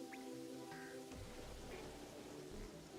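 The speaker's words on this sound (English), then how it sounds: "Why did it just immediately start raining?" Rain falling in a survival video game, a faint, steady hiss of downpour with a few soft drip-like patters and no voices.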